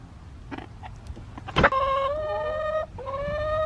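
A backyard hen gives a sharp squawk, then a drawn-out, rising, nasal clucking call. Softer scratchy sounds come before it, and no one speaks.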